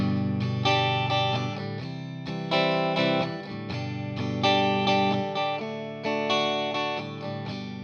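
A distorted electric guitar strums a chord progression, each chord ringing out before changing to the next, steady and full with no voices.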